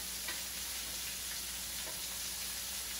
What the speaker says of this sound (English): I think I'm ready to pull these meatballs out of the frying oil.